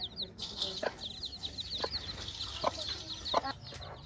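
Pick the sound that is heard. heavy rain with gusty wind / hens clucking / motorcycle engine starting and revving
hens clucking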